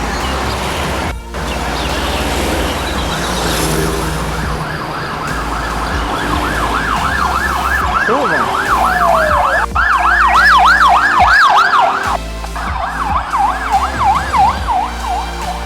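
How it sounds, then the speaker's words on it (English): Ambulance siren on a street in Hang Dong, Chiang Mai, wailing in rapid up-down cycles as it passes close by over steady traffic rumble and town ambience. "Right here, comes the ambulance."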